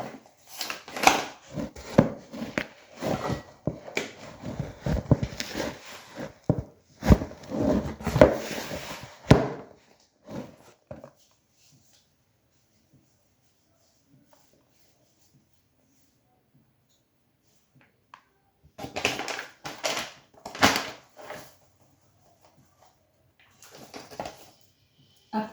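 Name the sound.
kneading maandazi dough by hand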